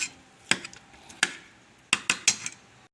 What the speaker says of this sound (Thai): มันฝรั่งต้มนิ่มนะครับ ยีนะครับ